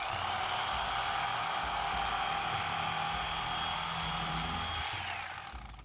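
A Shun kitchen knife edge is ground dull, producing a loud, continuous, high-pitched grinding whine that holds steady for several seconds before easing off at the end.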